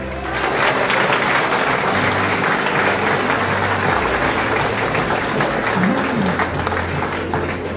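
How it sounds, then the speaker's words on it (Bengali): A crowded hall gives sustained applause after a political speech. The clapping is thick and continuous throughout, with a faint low hum and a brief tonal blip beneath it. "করতালি অন্তত 10 মিনিট ধরে চলা উচিত।"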